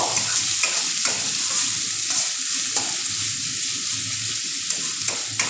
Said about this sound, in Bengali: ব্রাউন কালার হওয়া পর্যন্ত আমি মশলাটা পেঁয়াজ রসুনটাকে ভেজে নেব